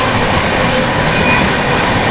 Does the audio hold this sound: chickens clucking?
no